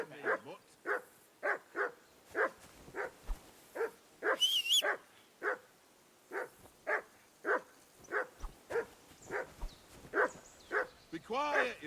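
A dog in the video game Kingdom Come 2 barks repeatedly in short, evenly spaced bursts at middle distance, with a brief whine in the middle and a voice speaking over it.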